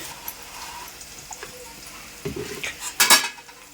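A utensil scrapes and clinks against a pot while ginger-garlic paste and turmeric are stirred into a fish curry, with soft background sizzle and a couple of sharper metallic knocks near the end.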